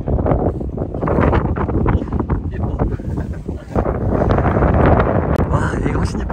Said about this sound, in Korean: 바람이 많이 불어서 좀 힘들긴 한데